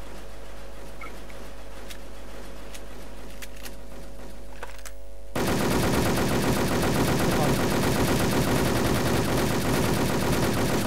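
Sustained rapid gunfire in the video game Wolfteam cuts in abruptly halfway through and continues loud and dense after a quieter stretch of game ambience.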